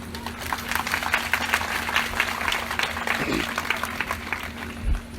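A congregation at an Odia Christian gospel meeting claps slowly in time. The claps are soft and evenly paced, and a voice talks over them.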